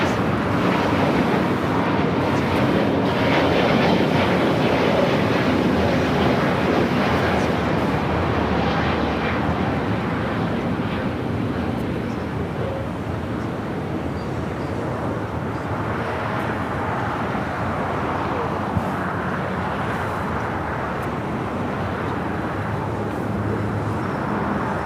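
A United Airlines Boeing 787-9 Dreamliner makes a heavy takeoff from LAX's south side, its jet engines building into a broad, sustained roar with wind buffeting the microphone, heard from a distance and without speech.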